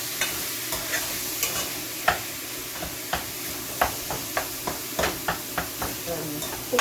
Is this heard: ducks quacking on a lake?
no